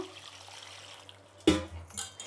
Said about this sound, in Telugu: ఇప్పుడు నీళ్ళు పోసి బాగా కడుక్కుందాము.